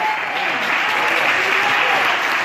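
Congregation clapping loudly at a church sermon, a dense, sustained burst of applause with no pause.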